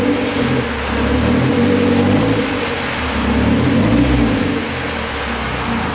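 Mazda Miata engine revving up and settling back, a loud close mid-range drone rising and falling in two broad swells with no talking.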